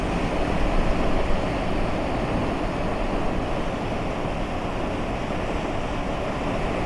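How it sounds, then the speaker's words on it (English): Water waves lap and wash in a steady, continuous rush with a faint breezy hiss, alone and without talk, during a calm outdoor meditation. "the sound of the water"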